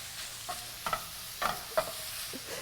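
Pork browning in a pan for biscuits and gravy, a low steady sizzle with several quiet stirring scrapes and utensil clicks spaced through it, fairly soft and close.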